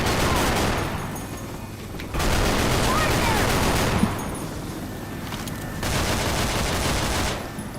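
Bursts of rapid automatic gunfire from modded weapons in Left 4 Dead 2, loud sustained volleys separated by short pauses, with a single sharp shot in the middle.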